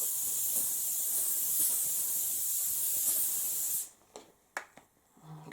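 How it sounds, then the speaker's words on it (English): Primark Fitzsimons Bounce Strong Hold hairspray sprayed onto hair from a distance, a steady close hiss lasting nearly four seconds before cutting off, followed by a few faint handling clicks. "So I'm just going to spray this over my hair"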